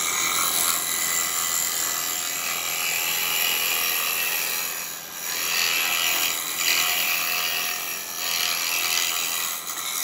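A small wooden pot being scraped on a lathe with a woodturning tool gives a continuous broadband rasping hiss, steady and close, with brief dips as the tool lifts off the spinning wood.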